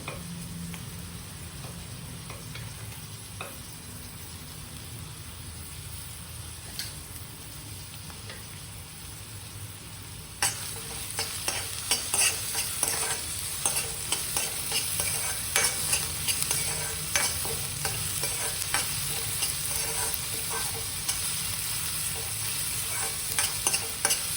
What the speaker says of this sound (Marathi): आता हा कांदा आहे ना व्यवस्थित लाल होईपर्यंत भाजून घेऊया